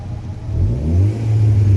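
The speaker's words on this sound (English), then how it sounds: "The idling is good." A 2011 Volkswagen Golf TSI engine running close by, a steady low hum that rises and settles smoothly over its short span, with no voices.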